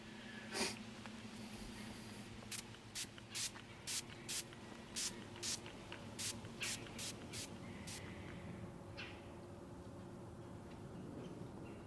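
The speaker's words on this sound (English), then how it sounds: "I'll spray it on my boots walking in." Short hissing bursts of hunting cover scent from a pump spray bottle, about a dozen quick pumps in a steady rhythm, close by over a low outdoor background hum.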